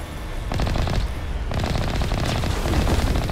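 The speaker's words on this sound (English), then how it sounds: "Oh, there goes some more shooting." Rapid automatic gunfire fills a combat scene in the video game Mass Effect Legendary, loud sustained bursts with short gaps and a dense rattling texture, no talking over it.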